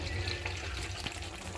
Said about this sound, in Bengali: এই যে এখানে গরুর মাংসের মধ্যে জলের পানি দিয়ে দিছি